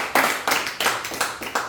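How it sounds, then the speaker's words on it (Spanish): A church congregation claps hands together loudly in a steady rhythm of sharp, close bursts, around four claps, with no talking over them. "Dale palmas a Cristo bien fuerte."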